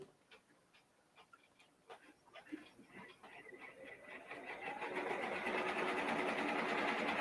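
Embroidery machine stitching a foam design on a cap in a hoop frame, starting with faint irregular ticks and building into a loud, fast, steady mechanical whir, with people talking at first.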